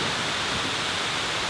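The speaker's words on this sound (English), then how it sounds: "before I get too close to the waterfall and it gets a little bit more difficult to hear me" A loud, constant roar of rushing water fills the whole clip with broad, even noise, like a nearby waterfall, with no voices.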